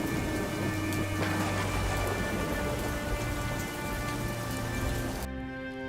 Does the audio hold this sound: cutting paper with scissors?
no